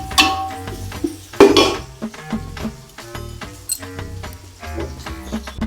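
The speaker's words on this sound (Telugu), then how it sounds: "ఇప్పుడు పచ్చిమిరపకాయలు వేస్తానము ఇవి కూడా గోలేయాలి" Green chillies fry in a pan as a utensil stirs and knocks against the metal, producing clanging scrapes and clinks in an uneven rhythm over faint sizzling, close up and without talk.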